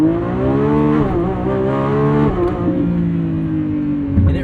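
Lamborghini Revuelto V12 engine, a 1,001 hp hybrid supercar driven at night, revving loudly with rising and falling pitch as it pulls through the gears, close and sustained with no talk.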